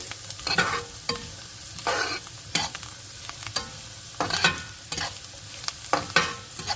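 Punugulu fritters fry in hot oil over a high flame, and repeated scraping strokes of a ladle come every second or so over a steady crackling sizzle. They are close and clear, with no voices.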